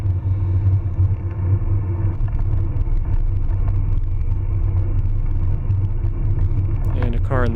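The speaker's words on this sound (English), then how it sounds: "The car is going slow behind the rider." A car rolls slowly behind a cyclist on a road, heard as a constant low rumble mixed with road and wind noise that stays even throughout, with a brief voice at the very end.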